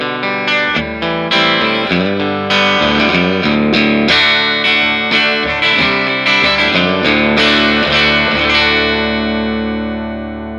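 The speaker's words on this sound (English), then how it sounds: "This is a broadcaster-style guitar." A broadcaster-style electric guitar through an 18-watt Tone Setter amp rings out clean, clear strummed chords and single notes in a continuous, loud phrase that fades out slightly at the end, with no voices.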